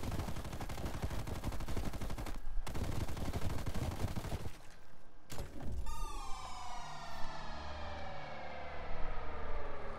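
A big gun in Call of Duty Black Ops Zombies fires in rapid, sustained automatic bursts, loud and dense, broken by a short pause, then a final blast whose ringing, descending tail fades out.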